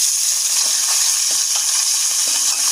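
Pieces of rohu fish smeared with turmeric fry in hot oil in a wok, giving a steady loud hiss of sizzling with faint soft crackles and no voices.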